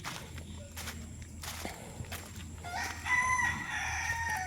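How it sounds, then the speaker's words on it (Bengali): A rooster crows in a forest, the call rising faintly in the latter half over a rustling, noisy outdoor background with scattered footsteps and clicks, sounding somewhat distant. "জঙ্গলে কিনা মোরগ ডাকছে।"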